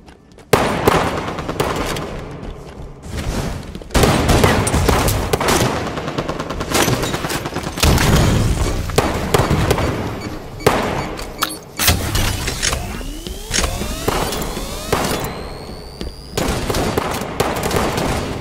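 Gunfire in the Halo 5 video game, dense bursts of rapid weapon shots and explosive blasts in quick succession, loud and close with sweeping effects late on.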